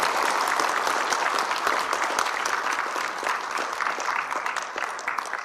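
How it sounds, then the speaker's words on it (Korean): An audience at a forum applauds a keynote speech on the hydrogen economy with dense, continuous clapping that holds steady and loud throughout, thinning only slightly toward the end. "문제도 회장님께 다시 한번 큰 박수 부탁드립니다"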